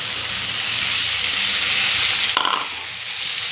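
Bitter gourd curry sizzling loudly in a pan, a broad steady hiss, with a brief clatter and sudden burst of frying as tomatoes are dropped in near the end.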